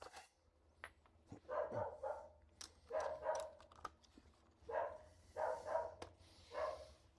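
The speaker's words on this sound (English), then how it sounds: "Other dog is barking next door" Dogs next door bark back and forth at a distance, sending short bursts of two or three barks that come again every second or so over a low steady hum from a garage.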